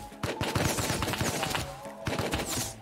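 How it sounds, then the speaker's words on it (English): Enemy players fire guns at the player in a trap-base survival game, a burst of sharp, fast shots crackling steadily and fairly close, with a short pause before the volley resumes. "They're shooting at me."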